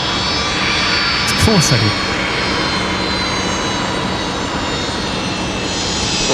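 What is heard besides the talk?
Boeing 787 aircraft jet engines at Brisbane Airport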